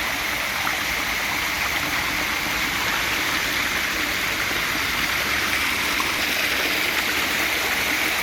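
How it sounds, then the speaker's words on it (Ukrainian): A waterfall pours steadily with rushing, babbling water, a dense continuous roar at constant loudness, close by with no voices. "де можна постояти і послухати шум і дзюркотання води"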